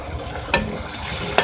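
Tomatoes and whole garam masala frying in a pan make a soft, continuous sizzle, with two brief louder scrapes of stirring.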